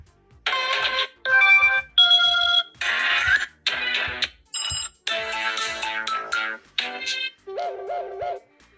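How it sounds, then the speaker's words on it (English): A series of short ringtone snippets from an UMIDIGI A9 Pro smartphone play one after another, each a different bright melodic chime, separated by brief silences and faint taps. "And you got your sounds. So go down, that's your ringtones."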